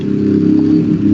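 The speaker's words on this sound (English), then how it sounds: "I hear a motorcycle." Motorcycle passing outside, a loud steady engine drone heard from indoors, continuous through the moment with no talking.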